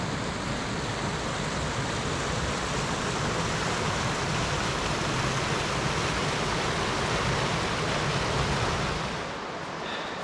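Clear Tagus river water rushing steadily beside a bridge near Peralejos de las Truchas, Guadalajara, a dense continuous wash that stays loud and even, then eases slightly at the very end.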